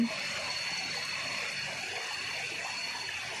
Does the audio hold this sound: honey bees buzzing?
no